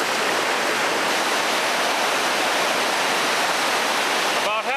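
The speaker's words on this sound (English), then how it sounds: "These holes are hydraulics formed when water drops over a rock ledge and recirculates back upstream." Whitewater rapids on a river thunder steadily as water pours over rock ledges and churns in recirculating holes, a loud, close, unbroken roar throughout.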